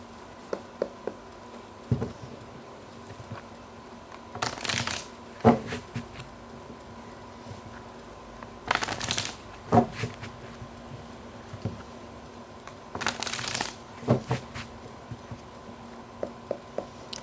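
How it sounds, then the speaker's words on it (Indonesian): Tarot cards being shuffled by hand in several separate bursts of quick riffling and flicking, each a few seconds long, fairly quiet against a low steady hum, with faint handling sounds between. "terutama ketika aku shuffle kartu ini"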